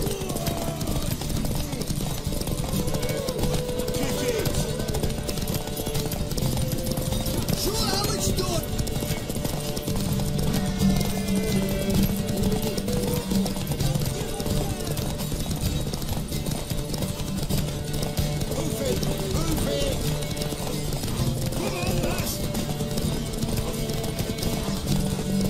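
Rhythmic hoofbeats of a galloping horse run under a dense soundscape from The Witcher 3: Wild Hunt, with voices talking over it and a brief whinny.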